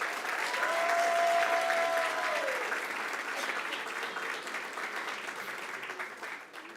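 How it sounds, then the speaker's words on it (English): An audience at a school district board meeting applauds, with sustained clapping from the room that slowly fades, and a faint tonal whine running underneath for a moment. "How about a round of applause?"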